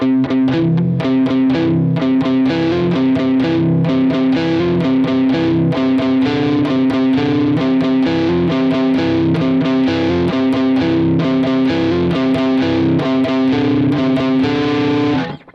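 Distorted electric guitar chugging a fast, steady palm-muted riff, tight percussive strokes repeating loudly and evenly throughout before stopping abruptly.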